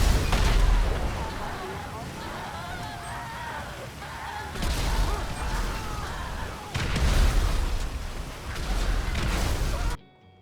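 Explosions in the video game GTA 5 Enhanced, played on a GTX 1650, give repeated heavy booms with sharp onsets at a few points, separated by busier game noise, before the sound cuts out abruptly.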